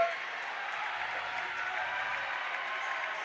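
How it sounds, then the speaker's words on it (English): At a university varsity sports event, a crowd watching futsal applauds and cheers in a steady, distant wash of clapping that holds evenly throughout. "And the crowd's going wild."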